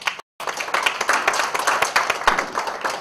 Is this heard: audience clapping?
yes